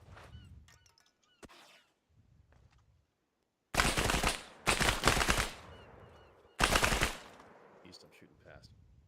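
Gunfire in the Arma military game: three loud, close bursts of rapid automatic shots a few seconds apart, each ringing out briefly, with scattered quieter clicks and voices between them.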